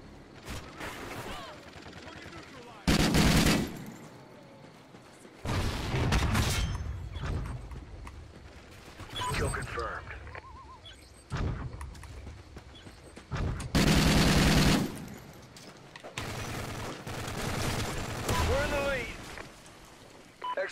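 Bursts of gunfire in Call of Duty: Ghosts, in a search-and-destroy round on the map Fog: several loud, short volleys of rapid shots with pauses between, mixed with game effects and a player talking.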